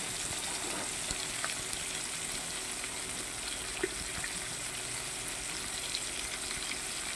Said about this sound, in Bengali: এবারে দেখো মাছগুলো ভেজে নিচ্ছি।